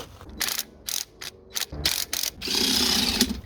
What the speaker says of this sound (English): torqued all of the jam nuts to 200 foot-pounds